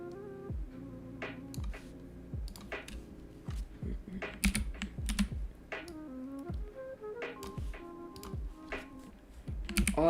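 Computer keyboard keys pressed repeatedly for Ctrl+J shortcuts in Photoshop, a close, crisp run of clacking keystrokes in uneven bursts with some heavier thumps, no voices.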